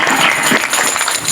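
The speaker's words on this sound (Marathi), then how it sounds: "त्यांच्यासाठी टाळ्या वाजवा" An audience at a Marathi kirtan claps steadily with dense, continuous applause, loud and close, with no pauses and no voices on top.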